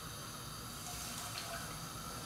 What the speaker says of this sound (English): We'll get half a cup of water. I've already boiled it.